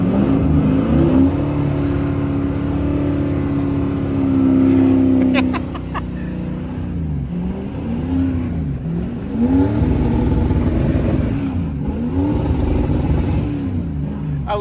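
1979 Ford F250 pickup with a 6.0 Powerstroke diesel driven hard through snow, its engine droning and surging in repeated revving swells, loud and close throughout.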